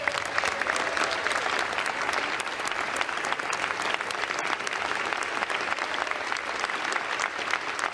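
Sustained applause from a large chamber audience in the U.S. Congress at the Capitol, a dense, steady wash of many hands clapping for the full stretch with no pauses.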